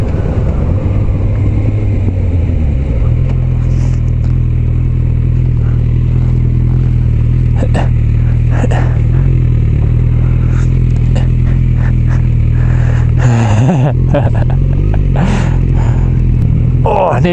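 Motorbike cruising at about 60 mph on a three-day trip, a steady loud engine drone with heavy wind rush throughout, brief shifts in pitch near the end as it slows for a turn.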